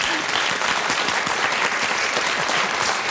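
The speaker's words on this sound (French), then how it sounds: "on applaudit très fort Sandrine et Pascal." A studio audience on the French TV game show Motus in 2006 claps loudly and steadily, a dense, even wash of applause that holds for the whole stretch with no talk over it.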